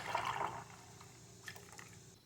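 Water poured into a pot of lemon peels, a short splashing pour up front that fades into light trickles and drips.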